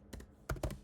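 Typing on a computer keyboard: a few close, crisp key clicks, a pair of quick taps followed by two louder strikes after a short pause, alone without speech.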